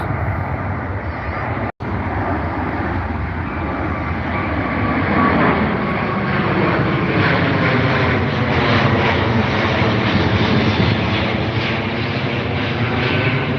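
A jet airliner departing from Heathrow's runway 09 right, heard from the runway end as a loud, continuous engine roar that swells slightly and holds steady throughout, with no one speaking.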